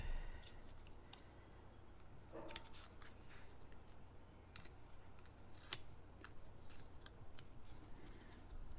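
Sharp scissor snips cutting paper for a handmade stamped card, a series of quiet, close clicks spaced irregularly over a soft background hiss.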